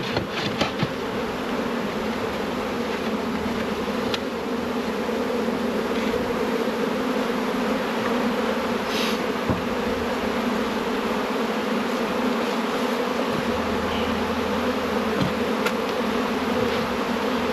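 A steady, dense drone of many honey bees buzzing nearby, continuous throughout with occasional louder passes.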